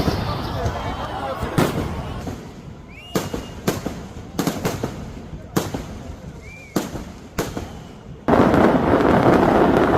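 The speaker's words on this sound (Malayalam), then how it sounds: "ഇപ്പൊ പാറമേക്കാവിന്റെ വെടിക്കെട്ട് കാണാൻ പോവാ." Paramekkavu fireworks at Thrissur Pooram crack out in a string of loud, sharp bangs and crackling bursts, some with brief whistles, ending in a sustained dense roar, while a crowd murmurs in the background.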